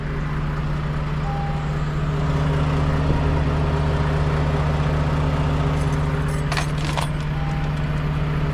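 Car keys jangling inside a car with a low battery, soft brief metallic clinks over a steady low engine-like hum and background rumble, fairly quiet throughout.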